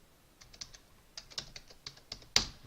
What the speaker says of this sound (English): I'm going to type in DVD box set.